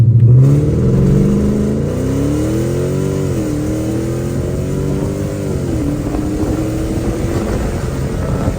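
A Chrysler 300C with a 5.7 Hemi V8 and an unlocked PCM pop-and-burble tune pulls hard from inside the cabin, its engine note rising steadily in pitch. The loud, continuous drone dips briefly at each gear shift, with no talking.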